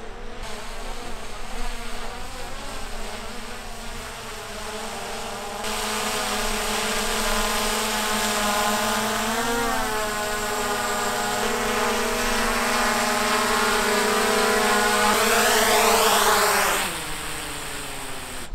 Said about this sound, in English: I really like this drone.